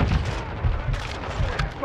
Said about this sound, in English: That vehicle is rigged. Detonate it. Vehicle destroyed.